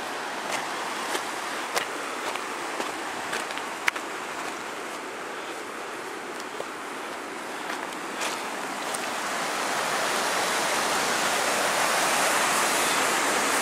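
Loud, continuous rushing water from a hydroelectric pipeline outflow near Loch Ericht in the Scottish Highlands roars steadily, broad and churning, with occasional sharp ticks and splashes; the torrent grows slightly louder toward the end.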